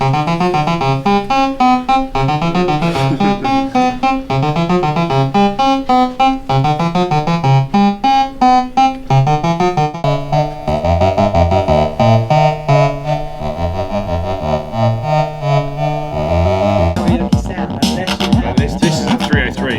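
A Roland 303 synthesizer plays a bubbling, repetitive acid dance bassline with rapid pulsing notes and shifting resonance, loud and continuous, ending in a brief noisy burst.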